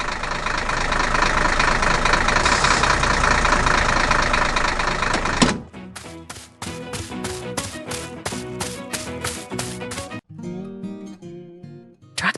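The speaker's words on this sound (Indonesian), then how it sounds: "Traktor sedang bekerja keras di hutan." An animated tractor works hard in a forest: a loud, dense, steady engine rumble runs for about five seconds, then cuts off abruptly and gives way to music.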